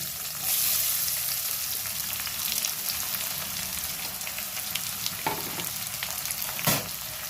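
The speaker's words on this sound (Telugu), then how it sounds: "ఇప్పుడు ఉల్లిపాయ ముక్కలు వేస్తున్నాను" Chopped onions hitting hot oil for a village-style country chicken curry set off a loud, continuous sizzle that holds steady throughout, close by, with a couple of brief sharper clatters near the end.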